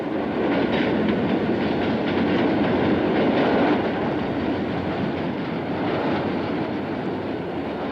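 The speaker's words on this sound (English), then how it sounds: "there was an elevated train going back and forth above the little house." An elevated train rumbles past with a continuous rolling roar and faint rhythmic clatter of wheels, loud and sustained.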